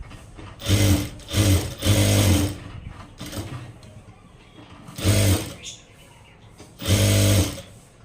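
A sewing machine stitches around a fabric puff sleeve in several loud, close bursts of rapid mechanical whirring, separated by short pauses.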